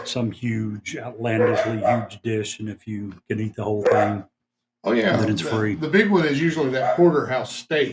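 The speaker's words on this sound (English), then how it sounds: "Sorry for the dogs; they are wired tonight." Excited dogs bark indoors at night, the barks mostly masked beneath a man's steady, continuous talk.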